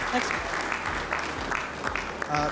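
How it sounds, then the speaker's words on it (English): Applause from an audience for a state governor after a question-and-answer session rolls on steadily and fairly loud, with voices talking through it. "I think here is where we give Mr. Governor a round of applause"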